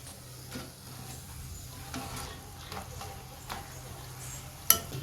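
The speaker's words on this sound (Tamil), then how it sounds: "நல்லா மொறுமொறுப்பாக பொறிச்சு எடுத்துக்கலாம்" Ribbon snacks made from gram flour and rice flour deep-frying in oil over a medium flame, a soft, continuous bubbling sizzle with a few faint stirring taps and one sharp metallic clink near the end.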